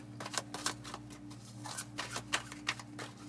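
Quick, papery flicks and riffles of tarot cards being shuffled, a rapid uneven run of soft snaps over a faint steady hum.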